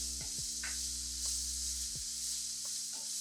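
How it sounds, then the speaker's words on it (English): Onions and peppers frying in a pan for a frittata, a soft continuous sizzle with a few scraping stirs and light knocks, heard close over a low steady hum. "we're just going to fry the onions and the peppers off"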